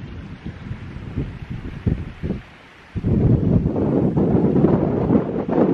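Gusty winter wind in the Lake District hills buffeting the microphone in low rumbling bursts, dropping briefly before a stronger, sustained gust roars in.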